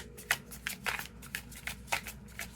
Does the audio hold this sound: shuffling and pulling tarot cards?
yes